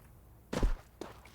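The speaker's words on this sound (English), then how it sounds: "As Mog hears these footsteps towards top mid" Footsteps in Counter-Strike 2 during a competitive match, two dull thudding steps about half a second apart, the first heavier and the second lighter, over a quiet background.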